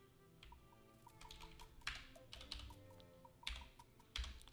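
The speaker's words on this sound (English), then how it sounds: "what is with my typing tonight?" Quiet, close computer keyboard typing with irregular bursts of key clicks and a few heavier keystrokes, no voices.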